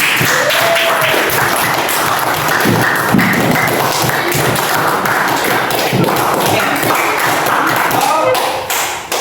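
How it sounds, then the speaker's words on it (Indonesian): Classroom applause at an Islamic junior high school, a sustained dense patter of many hands clapping with taps and thumps, loud and close, lasting several seconds amid voices. "beri aplaus untuk kita semua"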